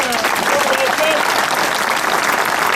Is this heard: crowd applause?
yes